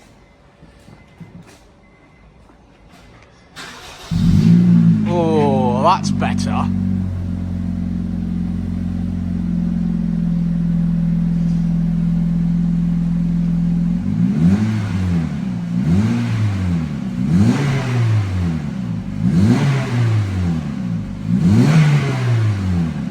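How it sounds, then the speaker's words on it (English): A modified Honda R18 1.8-litre engine with a Type S exhaust fires up loudly, idles with a deep steady drone, then revs repeatedly in rising and falling bursts; a voice speaks briefly. "It's time to bring it down and have a listen. Well, it's time for the sound test."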